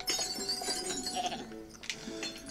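A goat bleats in the video game I am Bread, a couple of short, wavering cries heard close up over a busy mix of game sounds and chiming effects.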